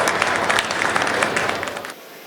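Audience applause at a Hindi comedy poetry gathering (hasya kavi sammelan): a dense, loud wash of many hands clapping together, steady for about two seconds before dropping off abruptly.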